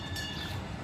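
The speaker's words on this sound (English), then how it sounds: "Train is coming." A train nearing at an ethno village in Stanišići, heard as a steady low rumble with faint high metallic tones over a short, continuous stretch, no talk over it.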